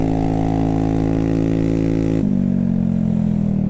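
A scooter with a loud aftermarket exhaust drones steadily, then its pitch drops as the engine note shifts midway, a close, continuous buzzing hum with no voices.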